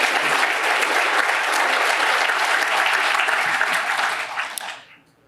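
An audience breaks into loud, sustained applause at a Chicago Teachers Union speech, dense clapping holding steady for several seconds before tapering off and fading out at the end.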